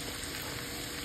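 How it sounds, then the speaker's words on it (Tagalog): Soy sauce hitting a hot pan of adobong sitaw with bacon, producing a steady, fairly soft sizzle and frying hiss that runs unbroken and alone. "Lagyan na natin ng toyo."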